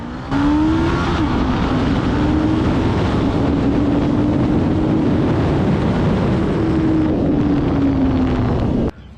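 A VOGE RR525 sport motorcycle accelerates hard in a 0-100 km/h test, its engine note rising and holding under heavy, steady wind roar for about nine seconds before cutting off abruptly.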